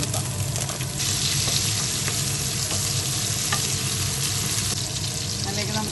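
Green chilies frying with garlic and ginger in oil for Kerala-style lemon pickle, a loud, dense, continuous sizzle with occasional stirring scrapes close by.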